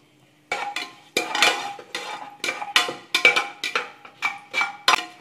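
Whole spices and torn leaves tempered in melted ghee in a pan for drumstick-leaf (murungai keerai) biryani, heard as a run of clinks and scraping pan-and-utensil knocks in irregular bursts, close and fairly loud with no talk.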